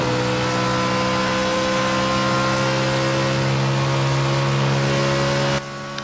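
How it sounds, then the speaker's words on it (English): A BMW Z4 race car engine heard onboard in a racing video game, a steady loud droning hum with sustained tonal harmonics, holding constant before dropping off sharply near the end. "So here we are on board Matthias's BMW Z4"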